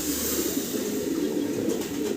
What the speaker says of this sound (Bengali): চমৎকার অ্যান্ডোলজিয়ান কালারের ভিতরে এক জোড়া রেসার কবুতর